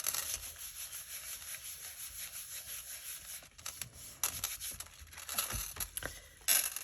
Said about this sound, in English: I like to turn it over on the back side so I can give it a good rub